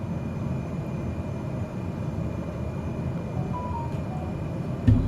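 A Cessna 208B Grand Caravan in a flight simulator game drones steadily on approach to landing at Niagara Falls, with a low, even engine hum and a faint thump near the end.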